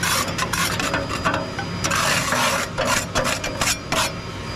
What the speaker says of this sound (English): I'm just going to just a little bit scrape.